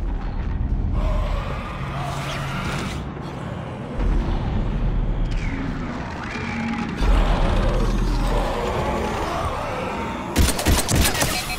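Sustained gunfire against Husks in the video game Mass Effect 3, dense and continuous across the clip with mechanical clatter and creaks, ending in a burst of sharp close shots.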